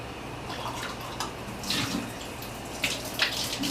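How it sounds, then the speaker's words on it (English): Water runs steadily from a kitchen tap while warm water is measured for homemade gluten-free bread, a continuous close splashing with a few brighter surges as the flow hits the basin or a container. "I turn on the water"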